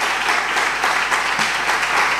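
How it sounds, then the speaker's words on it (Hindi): A church congregation claps loudly and steadily during a joyful sermon, a dense, continuous wash of applause with no break. "जोरदार तालियां खुशी से"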